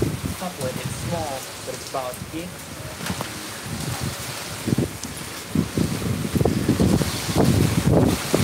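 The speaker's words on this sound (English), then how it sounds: "Yeah, the wind is really kicking up here." Strong wind gusts buffet and roar during severe weather in Moore, Oklahoma, swelling louder toward the end, with a voice briefly talking over the rushing noise.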